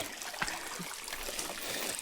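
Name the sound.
water trickling in a stream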